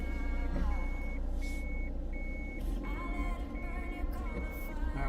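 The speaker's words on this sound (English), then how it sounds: "Japanese car beats when you go in reverse." Steady reversing beeps from a Japanese car repeat at an even pace, a high electronic tone pulsing over the low rumble of an idling engine and nearby traffic.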